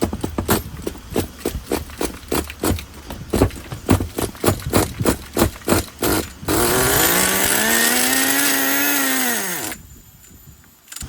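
A used Redcat Caldera 3.0 1/10 nitro RC engine sputters with rapid popping bursts, then catches and revs into a high buzzing whine that rises and falls before cutting off.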